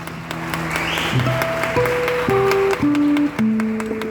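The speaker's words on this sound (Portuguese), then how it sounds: "Aplauda forte o Senhor." Catholic worship congregation applauding loudly in praise, a dense wash of clapping layered under sustained keyboard chords that step through a slow progression, steady throughout.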